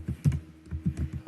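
Typing on a computer keyboard while coding, a quick close run of soft key clicks in an uneven rhythm.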